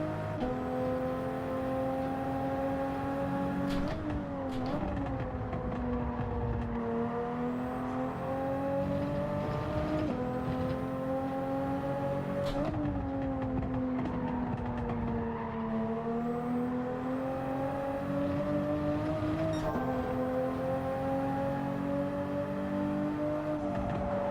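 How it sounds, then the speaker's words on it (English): Race car engine in the Gran Turismo 7 racing game, a loud sustained high-revving drone that climbs through the gears and drops sharply with each downshift, several cycles in a row with no talk. "Car sounds pretty good, especially on the downshifts."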